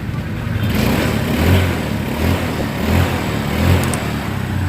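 A rebuilt motorcycle engine with a new piston, rings and rocker arms idles smoothly and quietly, no ticking, holding a steady near drone with gentle rhythmic pulses and no voices.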